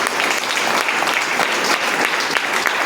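An audience claps loudly and steadily, a dense continuous wash of applause close by from start to finish, with a faint murmur of voices underneath.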